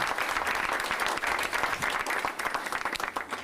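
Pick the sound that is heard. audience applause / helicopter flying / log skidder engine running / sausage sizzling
audience applause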